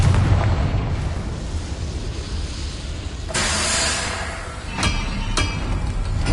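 A fiery Confringo spell explodes in the Hogwarts Legacy game, with a sudden loud blast and roar over a dense, rumbling game soundscape, followed by a couple of sharp crackling bursts.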